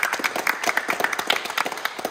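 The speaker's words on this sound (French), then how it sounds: "on applaudit" A small group in a gym claps and applauds continuously, close by, with no talking.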